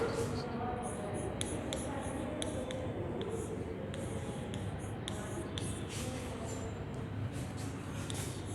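Pen or marker writing words during a Hindi grammar lesson: repeated scratchy strokes in short bursts over a steady, loud background noise.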